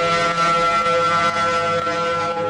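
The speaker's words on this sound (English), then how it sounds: "In Hawaii, warning sirens alert people of an impending tsunami." A tsunami warning siren in Hawaii sounds as a loud, sustained, steady tone with layered harmonics that holds without a break.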